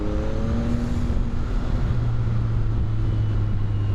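A CFMOTO 675-SRR motorcycle engine runs steadily while riding, a low droning tone that shifts pitch partway through, with wind rush over the microphone throughout and no talking.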